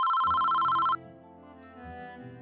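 A telephone rings with a bright electronic trill for about a second, close and loud, then cuts off, leaving a low sustained musical tone underneath.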